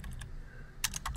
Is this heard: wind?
no